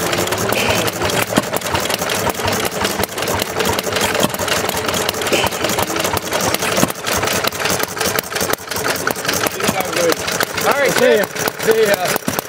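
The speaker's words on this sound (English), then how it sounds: "Sam has an F8. I don't know, John. 1200 RPM" A Fairbanks-Morse style F8 stationary engine idles around 1200 RPM at a fall engine show, a steady mid-pitched running chug throughout, with people talking over it and other show noise around.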